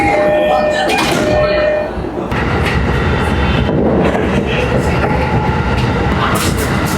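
A JR line train rumbles and clatters at a station, loud and close, with people talking over the rail noise.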